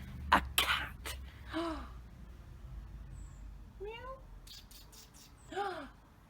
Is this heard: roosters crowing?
no